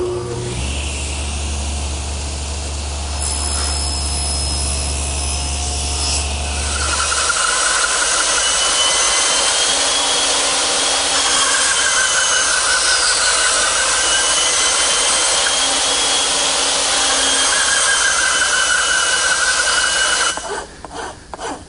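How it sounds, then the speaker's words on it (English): A bandsaw cuts away waste wood around tenons, its motor humming and blade rasping through the stock in several long passes, loud and close, before winding down at the end. "then remove the rest of the material with my bandsaw"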